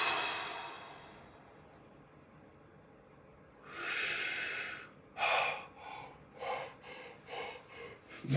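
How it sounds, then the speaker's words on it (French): Shallow human breaths, quiet at first, then a run of short, soft airy inhales and exhales arriving in quick uneven pulses, close and alone with no talk. "My breath is very shallow."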